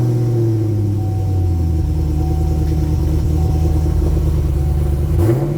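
A 2013 Gen 5 Camaro V8 fitted in a 1968 Camaro rumbles close and loud, a steady deep idle with a slight rise in revs and a brief blip near the end, no voices.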